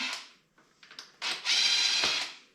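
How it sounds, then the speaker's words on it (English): An impact wrench drives a shock bolt out of an Arctic Cat M8 snowmobile skid: a few short metallic rattling bursts, then one sustained close, loud hammering whir that cuts off abruptly. "just impact it out"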